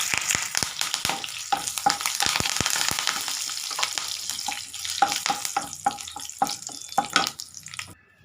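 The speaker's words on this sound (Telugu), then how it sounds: "జీలకర్ర, కరివేపాకు వేసేద్దాం." Cumin seeds and curry leaves hitting hot oil, a loud burst of spitting sizzle with sharp crackling pops that gradually thins and settles before stopping abruptly.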